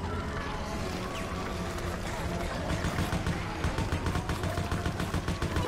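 Rapid gunfire in the video game Resident Evil: Operation Raccoon City, a steady stream of shots over a dense, noisy game mix, growing more rhythmic and pronounced toward the end.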